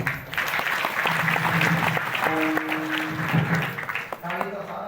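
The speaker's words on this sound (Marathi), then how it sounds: "टाळ्या वाजवल्या" Applause from an audience at a kirtan in Parli Vaijnath, steady clapping throughout with a voice speaking over it at moments.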